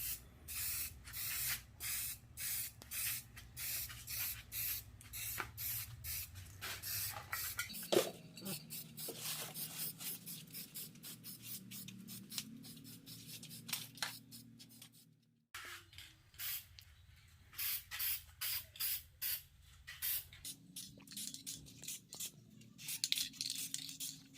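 Aerosol spray paint hissing onto car valve covers in repeated short bursts, close and steady, with a brief pause midway before the spraying resumes.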